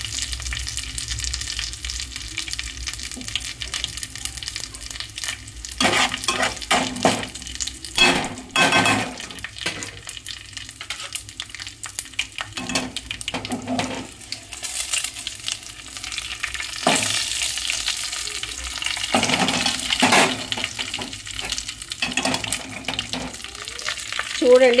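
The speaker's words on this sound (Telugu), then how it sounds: "చూడండి పచ్చడిలోకి తాలింపు వేసేసుకుంటున్నాను." Tempering spices frying in hot oil for peanut and ridge gourd chutney, a continuous crackling sizzle with intermittent bursts of spattering and utensil clinks, close and loud, with no speech.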